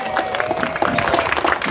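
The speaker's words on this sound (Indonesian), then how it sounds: "Tepuk tangan dong buat Kampung Marlina nih." A community gathering in Jakarta's urban poor network claps for a local neighborhood group, with uneven bursts of hand claps and crowd murmur blending with a faint voice.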